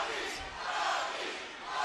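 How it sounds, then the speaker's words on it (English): A boxing arena crowd roars and cheers during a bout, a broad, continuous wash of voices that swells and dips slightly over a couple of seconds. "Listen to the crowd. They're cheering Rocky."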